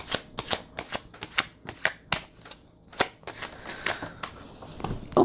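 Tarot cards being shuffled by hand, a quick series of crisp riffling and slapping bursts, close and fairly quiet, with brief pauses between.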